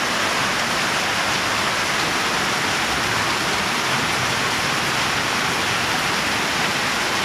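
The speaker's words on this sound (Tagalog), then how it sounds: "Lakas na ulan no?" Heavy rain pours down in a steady, loud, unbroken hiss with no pauses.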